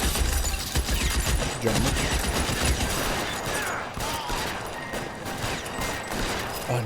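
Gunfire in L.A. Noire: dense, loud volleys of rapid shots with crashing impacts run throughout, and a voice speaks briefly over the din.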